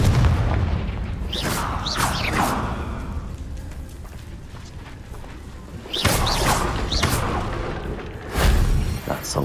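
Confringo fire spell bursts in Hogwarts Legacy gameplay: loud booming blasts with whooshing streaks, one near the start, another around six seconds and a final thump near the end, over a steady rumbling game background.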